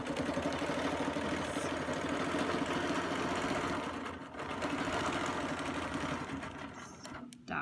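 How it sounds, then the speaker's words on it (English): A sewing machine stitches a quilt along a circle template for a Baptist fan design, a steady fast mechanical hum at low volume that briefly pauses and then runs on before stopping. "I'm going to stitch down until I hit that."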